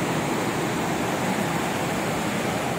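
Aliwagwag Falls pours with clear water, making a dense, unbroken roar of falling water that stays loud and constant with no other sounds.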